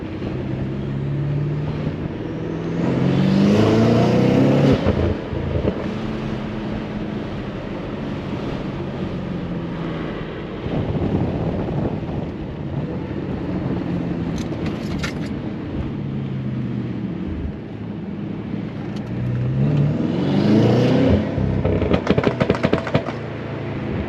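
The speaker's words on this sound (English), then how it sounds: "long burbles for no reason" A BMW F90 M5 idles and revs, its exhaust giving long, low burbles with a few sharp crackles, rising in two louder swells amid wind noise.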